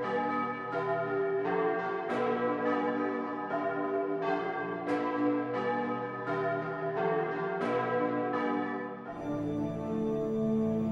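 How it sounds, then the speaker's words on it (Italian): Bells of an ancient church in the Fellicarolo valley ring festively, struck again and again in an irregular peal with long ringing overtones, loud and clear with no voices. "accolti dal suono a festa delle campane dell'antica chiesa"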